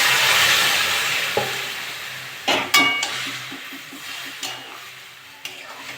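Potatoes and bottle gourd stalks, seasoned with salt and turmeric for a shrimp curry, sizzle steadily in a pan, with a few sharp clinks and scrapes of stirring breaking through the hiss.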